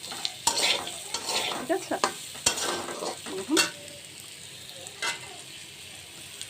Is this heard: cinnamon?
yes